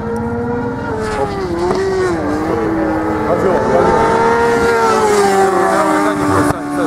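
A loud, sustained motorcycle engine roar at high revs during a race at Batajnica, pitch wavering up and down as if held at full throttle on a straight, ending abruptly.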